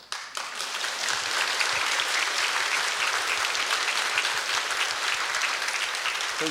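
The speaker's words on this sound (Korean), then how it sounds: "제게 박수를 보내야 합니다" A church congregation at a Sunday worship service bursts into dense, sustained applause that fills the whole stretch, with no talk over it.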